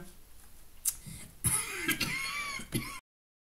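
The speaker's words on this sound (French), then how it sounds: "j'ai une quinte de toux qui m'a pris d'un seul coup" Several harsh coughs and throat clearing from a sudden coughing fit come in bursts, close and loud, followed by abrupt silence.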